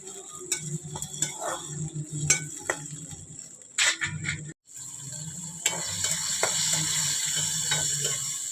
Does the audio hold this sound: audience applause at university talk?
no